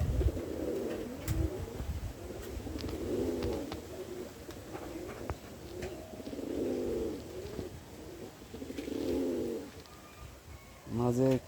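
Lahori pigeons cooing while bathing in the sun, repeated soft rolling coos in several bursts, fairly close, with splashy rustles and a sharper call at the end.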